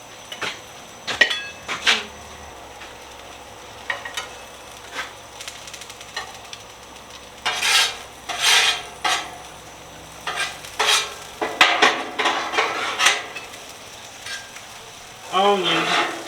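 Onions sizzle on a hot burger griddle while a spatula scrapes and slides them aside, with repeated bursts of scraping and clatter over a steady frying hiss.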